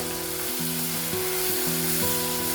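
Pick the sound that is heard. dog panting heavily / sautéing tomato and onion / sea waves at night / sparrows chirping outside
sautéing tomato and onion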